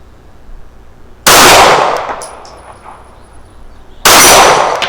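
Two sharp metallic clangs ring out from a steel gong target at 50 yards struck by 9mm pistol rounds from a Springfield Echelon 4.0c, each loud hit followed by a fading ring, spaced a few seconds apart.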